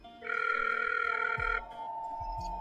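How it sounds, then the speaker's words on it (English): A brief tonal ring from a telephone, heard as an electronic trill with a lower hum following, fairly faint and close. "You can hear the ringing."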